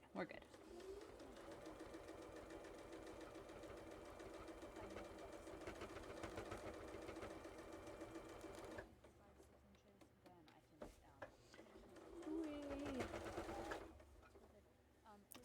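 A sewing machine stitches a quilt inside a converted school bus, running in a fast steady whir for several seconds, then stopping and restarting in short bursts while someone talks over it.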